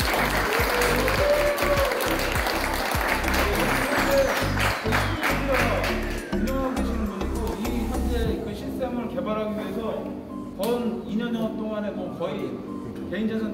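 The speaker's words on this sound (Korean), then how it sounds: "박수 한번 주시죠." A crowd at the first 2020 Lock and Load shooting match applauds an introduced company representative, with dense, loud clapping for several seconds that thins to scattered claps as it tapers, and speech over the end.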